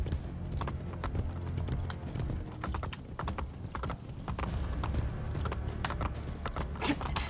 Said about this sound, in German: Ich reite einfach weiter